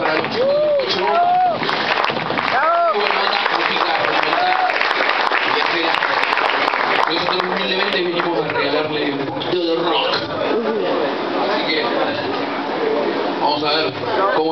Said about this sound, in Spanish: Así que este aplauso cariñoso para los chicos.